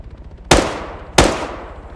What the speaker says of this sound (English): Some of them firing further away.